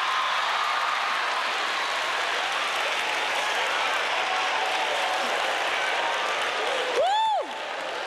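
A live comedy show audience applauds and cheers in a dense, steady wash of clapping, with a brief whoop rising out of the crowd near the end.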